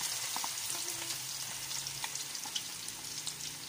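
Garlic dropped into hot cooking oil crackles with a soft, continuous sizzle, dotted with small pops and light stirring scrapes, fairly quiet and close.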